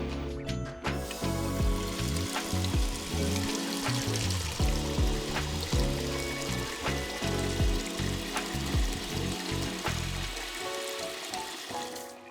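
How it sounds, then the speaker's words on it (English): Orange peels bubble in a pot of water at a steady, continuous boil during candied orange peel preparation, a dense close-up sound with no talking. "Now we're gonna boil this 3 times."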